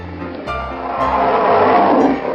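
A cartoon bear lets out a long, swelling roar in a children's animal cartoon, growing louder and rougher over about two seconds over a steady musical backing.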